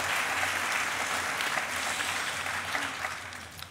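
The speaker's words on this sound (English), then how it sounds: "Double applause" Sustained audience applause fills the room evenly and continuously at a moderate level throughout, with no talking over it, tapering slightly at the very end.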